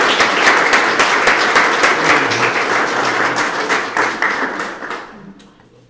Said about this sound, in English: I got to give him another round of applause.